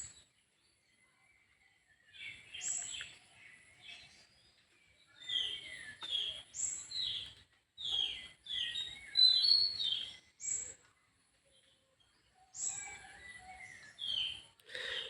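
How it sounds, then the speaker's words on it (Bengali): Birds chirp around a village house in scattered bursts of bright, high calls, some close and some farther off, separated by quiet gaps. "পাখির আওয়াজ, মুরগির আওয়াজ এগুলো আসতেই থাকে, ভিডিও করা যায় না।"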